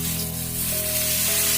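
Water hits a hot pan of well-fried spices for a small fish curry, a loud, steady hissing sizzle with a tonal whistle running through it, close and continuous.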